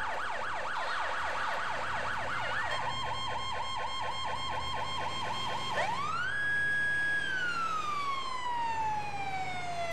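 An emergency vehicle siren in GTA IV wails loudly and close, switching from a fast yelp to a slower pulsing tone before winding up into a long falling wail.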